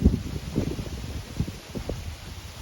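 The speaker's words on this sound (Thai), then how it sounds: "โอ้ยลมอย่างแรง" Strong wind gusts outdoors in the Thai countryside during a wild honey-hunting trip, buffeting the microphone with low rumbling, uneven bursts and rustling, no speech.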